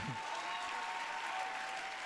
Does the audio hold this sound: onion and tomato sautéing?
no